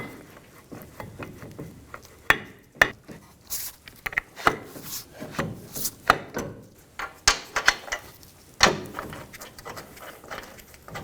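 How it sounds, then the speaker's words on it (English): Metal brake caliper handled and fitted onto the rotor of a Ford Expedition during front wheel hub work, giving a run of sharp knocks, clinks and scrapes at close range, irregular and moderately loud with no talking. "Take the caliper off the hook and install it onto the rotor."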